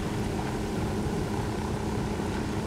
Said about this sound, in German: Ein Hubschrauber fliegt noch.